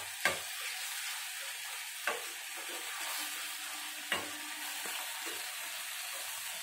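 Fish with raw mango paste sautés in a pan, a quiet continuous sizzle with three sharp stirring knocks spaced about two seconds apart and no voices.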